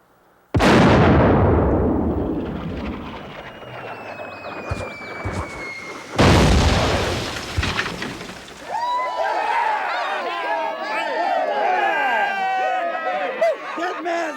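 A cannon fires at the Alamo with a loud, close blast whose roar decays over several seconds, then a second heavy boom follows, after which excited voices and cheering rise over the lingering rumble.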